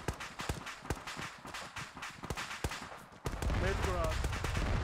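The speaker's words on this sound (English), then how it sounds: "Taking fire from the south." Gunfire in a tactical shooter video game while a squad moves to a garage, with a run of sharp rhythmic shots and a louder, denser burst near the end, heard alongside talking.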